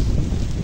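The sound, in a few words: strong wind blowing outdoors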